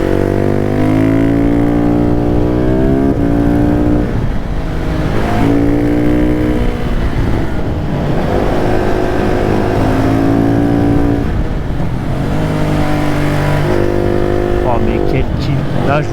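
A KTM 690 SMCR supermoto single-cylinder motorcycle being ridden hard, engine rising through repeated revving pulls and gear changes with wind rush, loud and close, with a voice talking over it.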